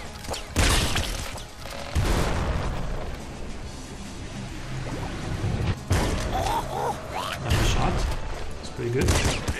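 Rapid machine-gun fire from the top-down shooter game Nuclear Throne, with dense bursts of gunfire and explosive impacts running throughout and a few brief pauses, loud and busy over game sounds.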